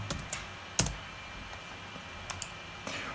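A computer keyboard is typed on in a quiet room while a dollar sign is entered with shift and 4, giving a few sparse, sharp key clicks with one louder tap among them.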